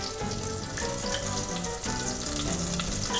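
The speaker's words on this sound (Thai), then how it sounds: "อันนี้ก็คือนำเครื่องลงไปผัดก่อนนะครับ" Seasonings stir-fried in a hot pan for braised pork intestines in soy sauce, giving a steady, close sizzle and crackle with some scraping and clinking of the utensil throughout.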